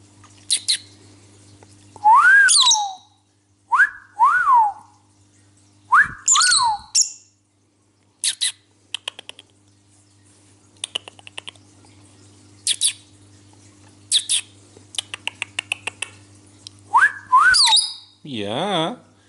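A cobalt lovebird (Agapornis) whistles and sings indoors in bright, rising and falling phrases, with rapid chirps and trills between longer whistled notes, close and clear over a low steady hum.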